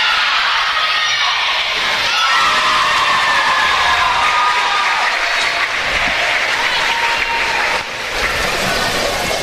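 Sustained crowd applause with cheering and whoops fills a gymnastics meet between West Virginia Wesleyan and West Liberty, loud and steady throughout, with scattered shouts rising above the clapping.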